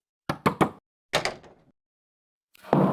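Several sharp knocks land on a wooden door in a home at night, a quick burst of three, a pause, then a rougher second series, followed by a louder, duller thud or rattle as the door is handled.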